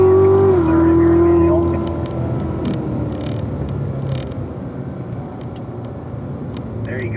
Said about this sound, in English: getting on that power up to 4th gear in those autos